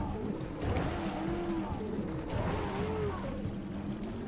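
In the Jak & Daxter video game, a Zoomer hover vehicle's engine gives a steady whining drone with brief rising pitch sweeps over a noisy, continuous background.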